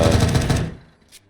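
Rapid automatic gunfire punching through walls in a competitive tournament shooter, loud and close, a quick burst of shots that cuts off after about half a second, then a faint short tail.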